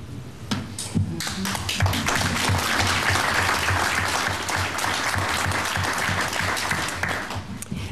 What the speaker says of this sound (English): May we applaud and honor all teachers who are on this battlefield.